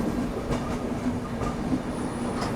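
Guntur Intercity Superfast Express passenger train running from Secunderabad toward Guntur, with a steady, loud rumble of wheels and carriages and faint rhythmic clatter throughout, no voices.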